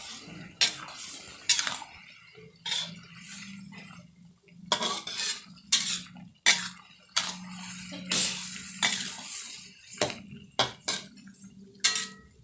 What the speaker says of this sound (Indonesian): kita tumis-tumis.